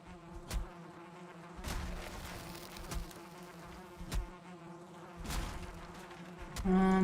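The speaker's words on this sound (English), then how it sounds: "I think we're gonna come in here to kill this beehive again." Constant insect-like buzzing from a beehive in the Valheim video game, a steady drone with recurring louder swells and thumps, heard alone without talk.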